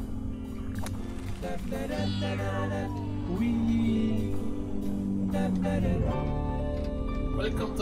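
Cats meowing in the video game What the Golf: repeated drawn-out, wavering meows over steady game music, fairly loud and continuous across the stretch.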